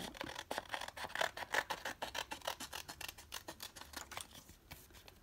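Scissors snip through paper for a vintage bird-themed craft page, a quick run of crisp, close cuts in an uneven rhythm that slows toward the end.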